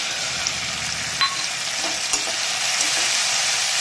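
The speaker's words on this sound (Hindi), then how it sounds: "प्याज को हम देखिए 3 से 4 मिनट हम इसे भूनेंगे लो मीडियम फ्लेम पर" Onions fry over a low-medium flame in a pan for dhaba-style rajma, giving a steady close sizzle with a few faint stirring clicks and no talking.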